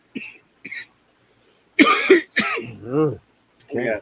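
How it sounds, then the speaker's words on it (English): Several short, harsh coughs, two small ones, then a louder cluster, with throaty vocal sounds between them, close and clear. "I'm getting a bit of a cough on the second."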